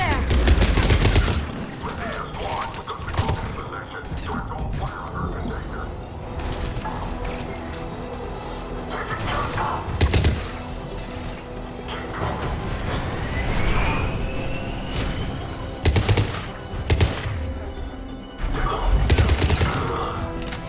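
Sustained gunfire in the video game Mass Effect 3 during a fight at a checkpoint, repeated loud bursts and volleys at irregular intervals over a continuous din of combat noise.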